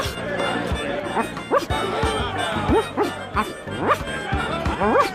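Dog barking in The Secret of Monkey Island video game, several short yips and woofs in an uneven rhythm over a low musical background, with a voice speaking alongside.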